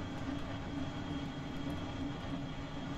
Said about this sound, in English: Afterburners make me happy.